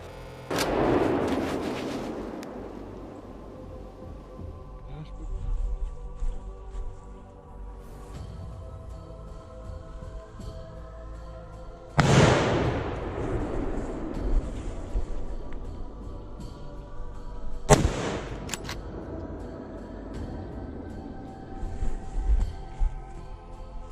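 Hunting rifle fired at a wild boar during a driven hunt in woodland, heard as three loud, sharp gunshot blasts with long echoing decays spread across the stretch, separated by quieter outdoor ambience.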